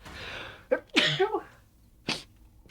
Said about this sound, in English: Also, sneezing.